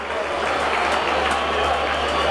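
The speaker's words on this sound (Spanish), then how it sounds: "Fuerte ese aplauso." An audience at a professional boxing event in Cantabria gives dense, loud, continuous applause, with crowd noise and a voice mixed into the clapping throughout.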